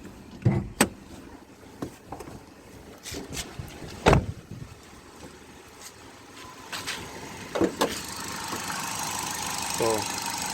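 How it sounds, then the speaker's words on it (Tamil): A Hyundai car with a hard-steering fault and an EPS warning light idles steadily at low volume, overlaid by a few sharp clicks and knocks and a brief whirring at the end. "ஸோ என்ஜினோட சவுண்டு கேட்குதுங்களா உங்களுக்கு? ஸோ என்ஜின் ஐடில் ரன்னிங்கில் தான் இருக்குது."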